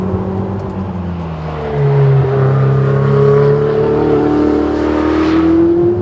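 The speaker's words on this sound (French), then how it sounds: "ce V8 coupe à 8000 au lieu de 9000 sur la 458" A Ferrari 488 GTB's turbocharged V8 coupe engine revs loud and close, its tone climbing steadily and holding a strong rising whine over several seconds, with no one speaking.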